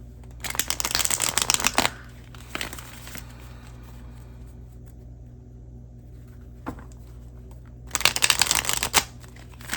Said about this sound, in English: I'm gonna shuffle real quick.